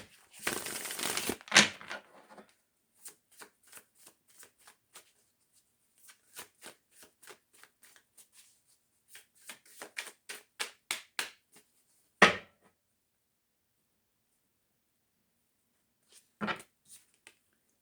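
Tarot cards shuffled by hand: a dense riffling burst at the start, then a long run of soft, separate card slaps and flicks with pauses, a couple of sharper riffles later, close and quiet with no talk.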